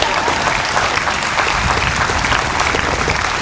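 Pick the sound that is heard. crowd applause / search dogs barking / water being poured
crowd applause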